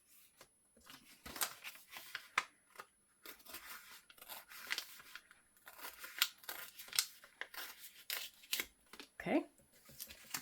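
A sheet of paper being torn off in short crisp rips and rustles, handled close up during journal page crafting, with brief paper handling bursts spread through the stretch.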